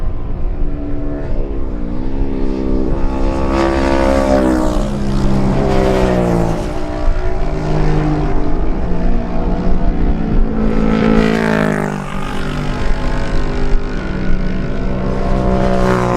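A tight pack of Kawasaki and Suzuki lightweight racing motorcycles roars past on a road race course, loud high-revving engines rising and falling in pitch as several bikes sweep by in quick succession.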